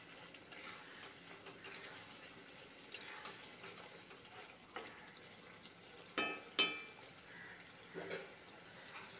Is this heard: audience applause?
no